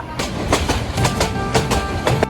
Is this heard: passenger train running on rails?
yes